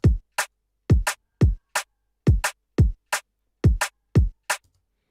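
A short electronic drum pattern: punchy low kicks alternating with crisp, clipped snare hits in a steady loop, dry and up close, no voices.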